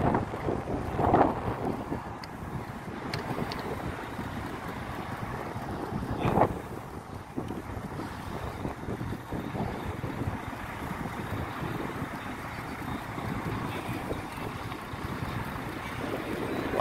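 Light outdoor wind in Dammam, Saudi Arabia buffets the microphone in a steady low rumble, swelling in brief gusts near the start and middle, with no talk.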